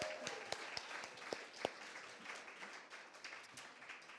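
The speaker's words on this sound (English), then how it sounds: "please join me in giving another round of applause to Chris Matthews and Heather May." Audience applause at a Catalyst Award celebration after a live musical performance, a faint, steady patter of clapping from a moderate-sized crowd with a few sharper nearby claps standing out.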